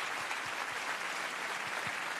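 Show audience gives steady, even applause for Jack Lang, a continuous crowd of hands clapping at moderate volume with faint low thumps beneath and no distinct speech.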